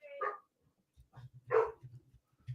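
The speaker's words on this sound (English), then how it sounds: "My dog's barking." A dog barks a couple of sharp, separate times close by, with quiet gaps and faint low thumps between the barks.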